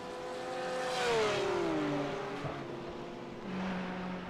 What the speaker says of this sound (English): You've got to love the noise that Porsche makes.